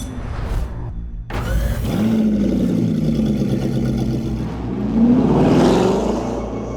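Bugatti Bolide track car, fitted with the Chiron's 1600 horsepower engine, accelerating hard in first gear against a pit speed limiter, a loud steady engine roar that climbs in pitch toward the end.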